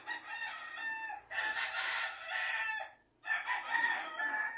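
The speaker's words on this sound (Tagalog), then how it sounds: "Distraction kining mga chicken ako sa palibot." Roosters crow loudly nearby in two long overlapping bursts separated by a brief pause, with chickens clucking around them.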